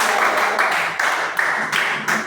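Students clapping in a junior high school English class, a steady burst of many hands with a few rhythmic accents, close and fairly loud, running the whole moment without talk.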